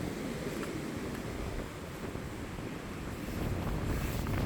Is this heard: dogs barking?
no